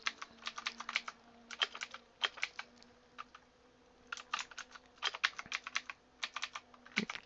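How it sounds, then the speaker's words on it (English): Keys clatter on a new computer keyboard in irregular bursts of quick, crisp clicks with short pauses between them. The sound is close and fairly quiet against a faint steady hum. "Still getting used to the new keyboard."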